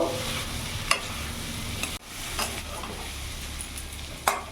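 Potato and cauliflower masala stir-frying in a pan over a medium flame, a continuous close sizzle broken by scraping spatula strokes, with a brief dropout partway through.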